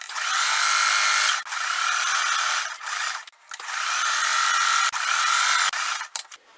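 A sewing machine stitches down crazy-quilt fabric strips in fast whirring bursts, a close buzzing run broken by short pauses and a few clicks.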